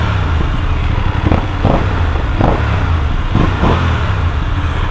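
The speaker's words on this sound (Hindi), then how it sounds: "And I don't like my bike so silent, I like दम रियली रियली रियली लाउड। और you can here the stock exhaust sound." BMW GS motorcycle engine running on its stock exhaust, a close, continuous mid-pitched engine drone with a few light rev swells, mostly engine noise and little exhaust note.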